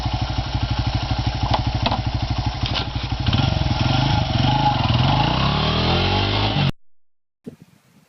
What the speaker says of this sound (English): Carter, how come you're safe when you ride your dirt bike?